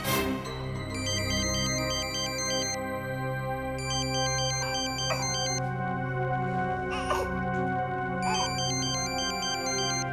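A phone rings on and off, unanswered, its repeating electronic ringtone pattern sounding clearly over soft background music with no one speaking.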